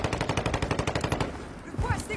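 Rapid automatic gunfire from a video game rattles in a fast, steady burst for over a second, close and loud, then breaks off into quieter game sounds.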